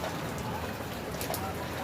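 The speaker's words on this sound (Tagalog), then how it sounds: "Umuulan pa." Steady, soft rain patters continuously in the background with no other sounds standing out.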